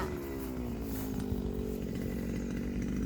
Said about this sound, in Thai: เสียงไอ้คนกำลิดตัดหญ้าเด้ค่ะพี่น้องเด้อตัดหญ้า